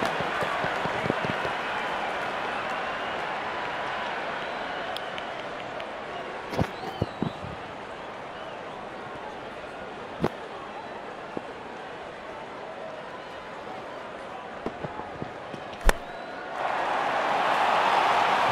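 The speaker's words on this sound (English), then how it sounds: "Crowd is enjoying every bit of this action." A stadium crowd at a Chennai Super Kings cricket match cheers after a big six. The steady, distant roar of many voices runs throughout, with scattered sharp claps and a louder swell of cheering near the end.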